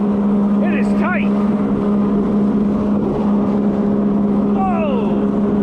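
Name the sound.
Yamaha JetBlaster Pro personal watercraft engine at speed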